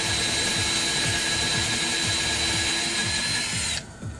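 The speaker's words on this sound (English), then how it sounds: "Re-drilling holes." A power drill steadily re-drills holes into very hard reclaimed wood on a greenhouse build, a loud continuous whine with a rhythmic grinding pulse until it stops abruptly near the end.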